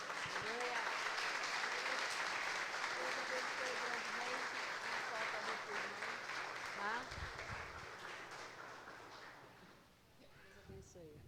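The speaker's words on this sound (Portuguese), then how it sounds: "Aplauda ao Senhor." An audience claps in sustained applause at a Baptist theological seminary graduation ceremony as a diploma is handed out, a dense even clatter that slowly fades, with voices talking over it.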